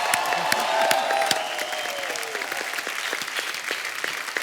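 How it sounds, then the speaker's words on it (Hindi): Loud, dense applause with some cheering rises from a studio audience on a Hindi comedy talk show set, continuous and close for several seconds without speech over it. "जोरदार तालियां"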